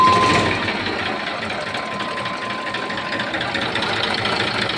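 An Eicher 485 tractor engine runs steadily nearby, a continuous rough mechanical chug that holds an even level throughout with no talking over it.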